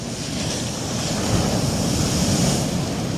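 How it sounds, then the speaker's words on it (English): Strong winter wind roars against the microphone over the wash of waves on the Felixstowe seafront, a continuous loud blustery rumble with no voices. "It's cold, it's wet, it's windy."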